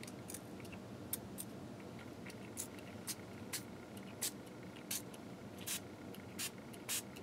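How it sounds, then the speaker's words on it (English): Short hissing bursts of an aerosol spray paint can, repeated irregularly every half second or so against a quiet room. "I think we're going to spray some of this in here."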